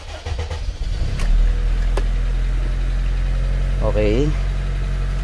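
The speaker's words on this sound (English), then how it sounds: "So, start ko yung sakyan." A car engine cranks and catches, then settles into a steady low idle that is being checked for hunting; a person speaks briefly over the running engine.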